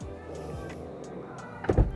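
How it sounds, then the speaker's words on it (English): An AITO electric car door motors shut at the press of a button, a soft whirring followed by a solid thunk as it closes near the end, fairly quiet. "When I close the door, just press this."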